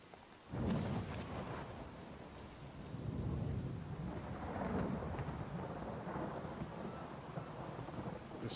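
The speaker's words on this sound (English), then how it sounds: "This storm is crazy." A thunderstorm rumbles in the distance, low rolling thunder building and fading over steady rain and some wind, fairly faint and with no voices.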